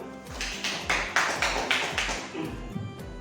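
An audience of educators claps together in a rhythmic pattern at a school training session, roughly seven even bursts a third of a second apart with low thumps beneath.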